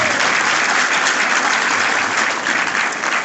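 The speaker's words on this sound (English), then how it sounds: "Give it up for her, ladies and" Sustained audience applause at a comic convention panel script read, a dense steady wash of clapping from a sizeable crowd lasting the whole few seconds, loud and close.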